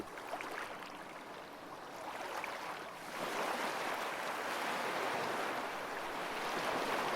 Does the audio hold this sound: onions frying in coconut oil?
no